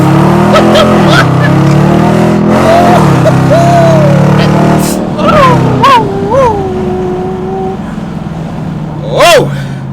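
A Dodge Challenger R/T fitted with a pedal booster, accelerating hard in race mode: loud, close engine roar climbing through gears with rising and falling pitch sweeps at each shift, someone talking over it.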